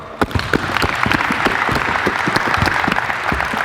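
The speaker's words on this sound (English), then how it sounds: "Clap it up." Players clap during a basketball coaching session on a court, a crisp, fairly close burst of applause with sharp individual claps standing out across the whole stretch.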